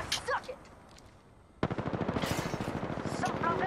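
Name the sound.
gunfire in video game Apex Legends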